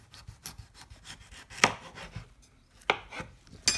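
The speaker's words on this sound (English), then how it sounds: "So I've cut that lengthwise this time." A sharp kitchen knife cuts a potato in half lengthwise on a board, giving a few distinct close thunks and scraping strokes, with the loudest cuts spaced out near the middle and end and no voices.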